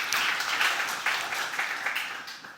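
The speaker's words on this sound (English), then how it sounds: "Yeah, you can clap" Scattered audience clapping at a conference talk on anti-forensics, a fairly sparse and modest round of applause that tapers off gradually over a couple of seconds.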